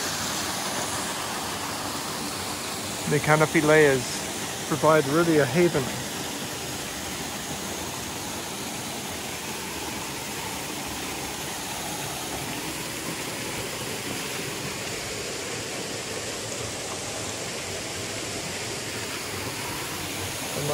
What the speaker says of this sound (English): you can see quite a lot of water is coming over